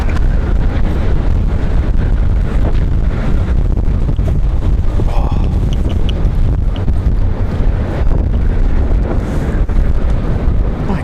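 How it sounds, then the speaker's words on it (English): Strong gusty wind buffets the microphone outdoors at Raleigh-Durham International Airport, a loud, continuous roaring rumble that stays steady and close for the whole stretch. "some of the strongest wind I've ever felt in my life"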